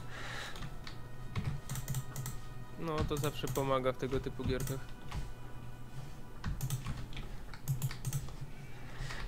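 Rapid keyboard typing and shortcut presses on a computer during an Age of Empires 2 HD match, clicks scattered throughout beneath steady game sounds and someone speaking Polish in the middle.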